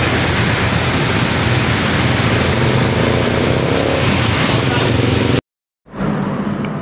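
A new Honda Click 125 V3 scooter rides along with loud, continuous engine and wind roar, cutting out briefly near the end before the noise returns.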